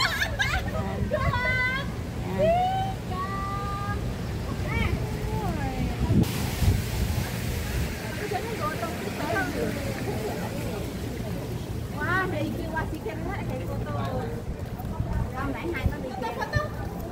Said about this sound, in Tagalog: narinig nyo naman yung ingay ng mga tao.